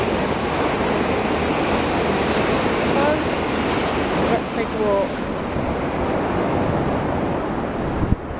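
Sea surf washes continuously along the Blackpool promenade on a cold, calm day, a broad steady roar of waves with some wind buffeting the microphone, and someone speaks briefly over it.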